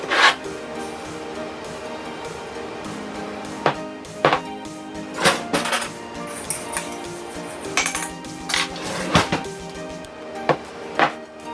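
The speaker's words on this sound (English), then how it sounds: "mix the coconut oil and the sugar together" A spoon scrapes and stirs coconut oil and sugar together in a bowl for a body scrub. There is a steady gritty rubbing, with sharp clinks of the utensil against the bowl at irregular intervals.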